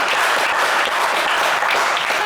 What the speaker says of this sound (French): on vous applaudit, Franck